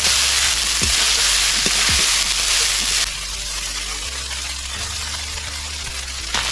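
Cooked rice hits hot white oil in a pan with lightly fried ginger, giving a loud, close, continuous sizzle. A few scraping stirs come early, and the hiss eases slightly partway through.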